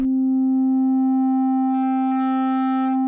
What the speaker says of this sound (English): So here we have a sine wave. Now if I fold this wave, take a look at what happens there.